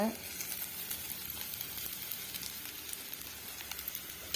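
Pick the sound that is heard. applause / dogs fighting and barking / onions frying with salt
onions frying with salt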